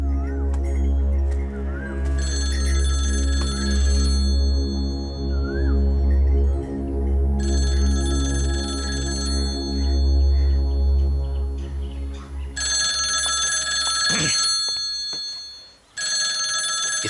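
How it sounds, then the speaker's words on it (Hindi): A telephone rings repeatedly in bright electronic trills over a loud, low droning musical background, the rings coming in several separated bursts. "इस वक्त कौन फोन कर रहा है?"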